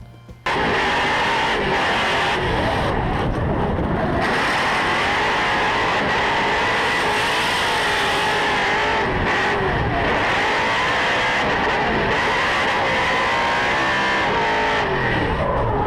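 A drift car at a professional drifting event revs hard and skids with its tires screeching in a long, loud, continuous run, its engine note rising and falling with the throttle, with no voices.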